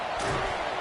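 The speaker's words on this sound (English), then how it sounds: "Decibels rising as the crowd gets behind this defense on 3rd down." Stadium crowd noise in Madden football on a third down, a loud steady roar of cheering with no break.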